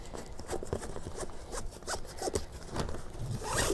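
Zipper pulled open along a waterproof hitch cargo carrier bag on a BougeRV rack, a close, scratchy run of rapid teeth clicks in short bursts lasting a few seconds with no talk.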